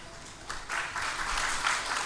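An audience at a Tamil spiritual speech breaks into applause, a brief, moderately loud burst of many hands clapping that starts abruptly and continues steadily to the end.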